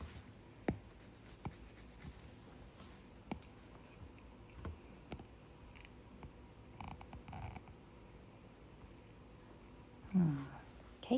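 A pen scratches out a skeletal chemical formula during an alkene chemistry lesson, with faint strokes and scattered light taps on the surface across several seconds, then a brief louder rustle near the end.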